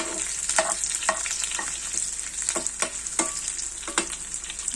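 Onions and dried red chillies frying in a pan, a bright continuous sizzle punctuated by regular sharp scrapes and clacks of a spatula stirring, close and fairly loud with no talking.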